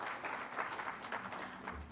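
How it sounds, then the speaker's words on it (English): A crowd at a women's achievement summit in Bengaluru claps in a steady, dense round of applause that carries evenly through the whole stretch without any voices on top. "Can we hear a huge round of applause for ourselves"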